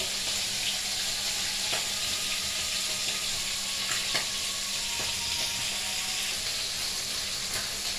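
A hilsa fish head fries in oil tempered with cumin seeds, giving a constant close sizzling hiss with small crackles and pops throughout, and no voices.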